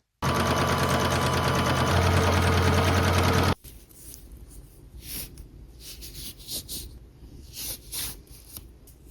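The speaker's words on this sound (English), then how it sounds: "now I can do a straight stitch all the way down this strip" A sewing machine runs a straight stitch down a folded fabric strip being made into a strap, a loud, steady mechanical whir for about three seconds before stopping. Quieter rustling and handling noises follow.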